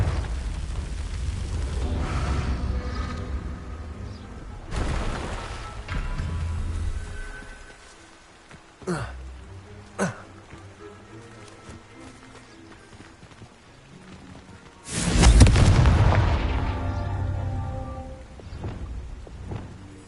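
In the Hogwarts Legacy video game, Confringo fire-blast spells erupt in several booming explosions, the heaviest near the end, with rumbling bursts and hoofbeat-like clatter between them.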